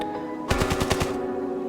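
A rapid burst of about seven rifle shots from an AKR-12 or M16 in the mobile shooter Standoff 2, loud and evenly spaced over half a second, then stopping abruptly, with a low hum in the background.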